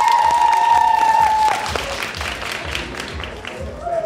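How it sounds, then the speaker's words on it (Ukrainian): An indoor audience at a Valentine's Day event bursts into applause that stays full for a couple of seconds and then thins, with a voice speaking over it. "Ваші оплески."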